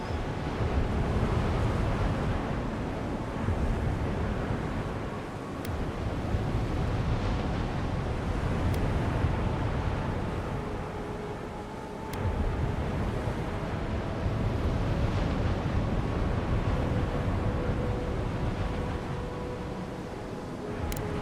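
Ocean waves surging against rocks in Avowed, a continuous rumbling wash that swells and recedes in slow cycles, with windy, boomy low-end texture and no speech.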